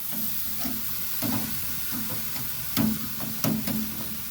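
Ribeye steaks sizzle over an open fire, a continuous close hiss and crackle broken by a few louder sharp pops and stirring clunks, with no voices.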